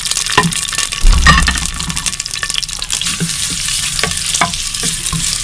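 Sliced onion sizzles and is stirred in a hot cooking pot for mutton kunna, with a continuous loud frying hiss, a brief low rumble as it goes in, and occasional clinks of a utensil against the pot.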